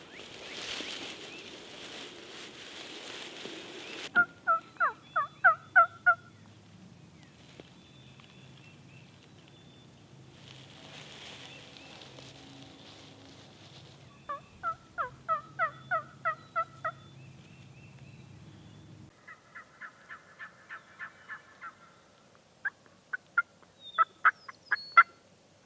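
Wild turkeys in Kansas gobble in several sharp, rattling bursts, fairly close and clear against a quiet outdoor background, with pauses between calls.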